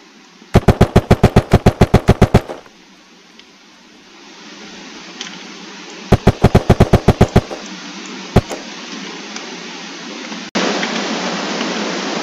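Video game gunfire from a weapon in Unturned: a loud rapid burst of automatic shots, a pause, a second shorter burst, then a single crack, all sharp and close with no voices.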